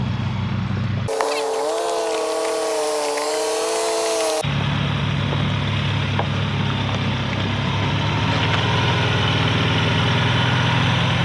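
A Ford Bronco Everglades idles low and steady as it crawls off-road up a hill on 1 mph trail-control cruise, the engine drone continuous and close, with a brief shift in tone early on.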